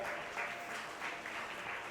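Steady applause from a crowd, a dense wash of clapping that swells slightly and carries on throughout without pause.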